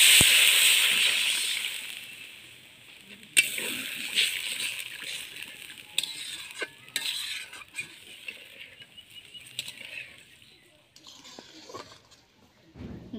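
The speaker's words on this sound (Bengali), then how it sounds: "কষিয়ে নিয়েছি, জল দিয়ে দেবো।" Water poured into fried spice paste with poppy seed paste, turmeric and salt in a pan, a loud hissing rush at first that quickly fades into softer sloshing, clinks and scattered spoon taps.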